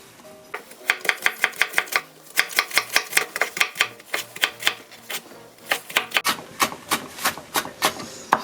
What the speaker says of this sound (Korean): 당근도 송송 다져주세요